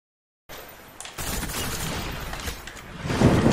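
Gunfire in a video game, a muffled burst of shots followed by a rumbling stream of fire and explosions that grows louder toward the end, with no talking.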